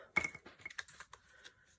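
Scissors trimming paper overhangs on a handmade card, a quick series of crisp snips and paper rustles close up, irregular in rhythm and fairly quiet.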